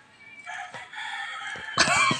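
A rooster crows loudly and close by, one long drawn-out cock-a-doodle-doo call rising and breaking into a harsher ending, with clucking fowl around it in an outdoor yard.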